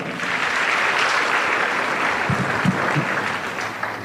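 Steady audience round of applause at a university career day, dense and continuous across the clip with a few louder claps near the end.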